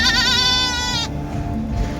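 Hungry young goat kids bleat loudly and close by in a quick run of wavering cries, then fall quieter, with faint rustling and no talk.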